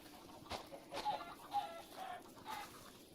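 Egg-laying hens cluck in the Forever World video game, soft repeated clucks and murmurs at a faint, steady level with short gaps between calls.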